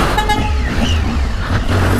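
A Triumph Tiger 800 motorcycle runs with its air filter removed, its engine giving a loud, close, rough drone that holds steady throughout with no talking.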